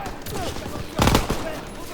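Rapid machine gun fire in a first-person shooter, a short crackling burst standing out over continuous game noise and a faint voice.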